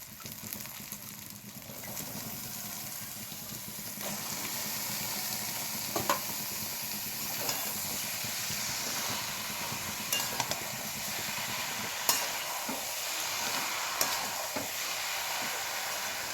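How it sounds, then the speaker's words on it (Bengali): Drained cabbage and green peas are tipped into frying spices in a kadai for a rui fish-head curry, making a faint, steady sizzle broken by occasional light clicks of stirring. "এবার আমি মশলার মধ্যে জল ঝরানো বাঁধাকপি আর কড়াইশুঁটিটাকে দিয়ে দিচ্ছি"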